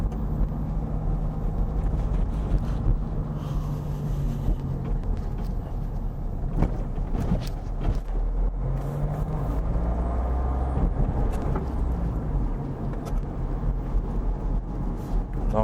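A learner driver's car pulls away from a stop and drives on a 30 km/h town road during a driving test route in Vitrolles, engine and road noise steady and close throughout, with occasional knocks and a voice speaking over it.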